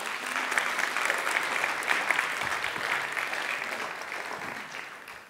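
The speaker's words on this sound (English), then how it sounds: "Please give her a round of applause" An audience at a live brain master class gives a warm round of applause, many hands clapping steadily at a moderate distance before the sound tapers off at the end.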